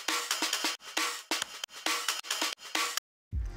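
Drum break sample played back in Ableton Live: a punchy, tightly looped pattern of kick, snare and cymbal hits in quick rhythmic succession, loud and dry, stopping abruptly before a brief restart.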